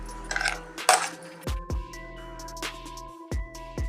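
A spoon clinks against a bowl as ground rice is stirred into curd-soaked rava batter for leftover-rice idli, giving scattered sharp taps between quiet scraping.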